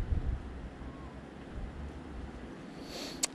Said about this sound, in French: Le vent se calme, mais j'ai pas lieu d'ouvrir.